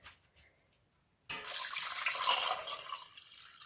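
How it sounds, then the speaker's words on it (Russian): Water pours from above into a sauté pan holding peeled persimmons until they are covered, a sudden splashing gush that starts after a quiet pause and runs steadily, close and fairly loud, easing slightly toward the end. "Заливаю водой так, чтобы хурма была полностью покрыта."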